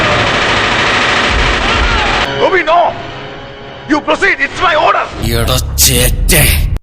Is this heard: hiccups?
no